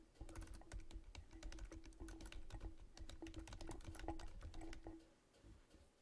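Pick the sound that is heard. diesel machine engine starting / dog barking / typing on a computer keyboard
typing on a computer keyboard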